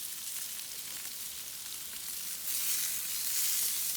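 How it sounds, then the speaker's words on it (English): Bacon frying and crisping in a pan during an outdoor food demo, giving a steady, dense, hissing sizzle that swells slightly louder partway through, with no voices. "You see the bacon starting to crisp up here a bit."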